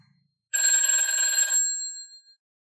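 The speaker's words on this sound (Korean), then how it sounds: "전화벨이 울렸다" An office emergency telephone's bell rings once in a single continuous burst of bright metallic ringing, close and loud, then fades out into silence.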